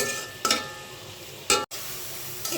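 Two chopped tomatoes soften in a hot pan with a continuous sizzle, broken by three louder stirring scrapes spaced about a second apart.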